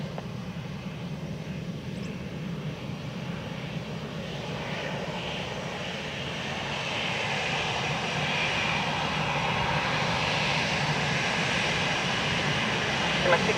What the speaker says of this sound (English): a light aircraft inbound for Weston